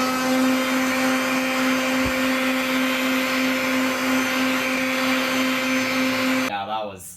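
A Slim Dry hand dryer in a restroom gives a loud, steady whooshing roar with a strong constant hum that runs unbroken for about six and a half seconds, then cuts off abruptly.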